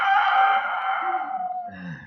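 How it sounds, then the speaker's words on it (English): A single long rooster crow rings out close and loud, fading into a brief lower squawk at the end. "Oh, I could have slept if it hadn't been for that darn rooster."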